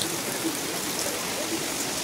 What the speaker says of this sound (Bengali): আঙিনার দিকে তাকায় দেখলাম যে প্রচুর বৃষ্টি হচ্ছে এবং বৃষ্টির সেই সুন্দর শব্দ মন ভালো করে দেওয়ার মতো